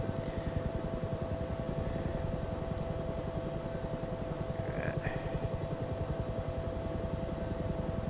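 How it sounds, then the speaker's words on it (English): A Huey helicopter in flight carrying a sling load, its steady rotor chop and turbine whine droning evenly and constantly, fairly loud and close, with no voices over it. "You want to keep your movements as smooth as possible in this helicopter"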